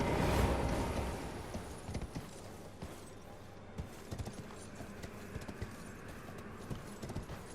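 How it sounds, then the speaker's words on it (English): Horse hooves clatter in a steady galloping rhythm in the video game Elden Ring, fairly close and continuous over a low rumbling game background, with a louder burst at the start. "Okay, let's go ahead and use the horse again."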